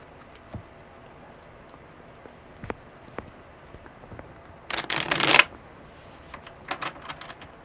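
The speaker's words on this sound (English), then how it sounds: "Okay, one more good shuffle." Tarot cards get one brisk shuffle, a sharp crackling riffle lasting under a second, set among faint card handling and soft taps in a quiet room.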